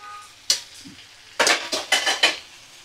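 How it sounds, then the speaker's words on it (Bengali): Small chopped pieces of bottle gourd are tipped into a pan of spices. A sharp metal knock comes first, then a quick burst of clattering and scraping utensil strokes against the pan, with a faint sizzle underneath. "এবার দেখো ছোট ছোট টুকরো করে কেটে রাখা লাউ আমি দিয়ে দিচ্ছি।"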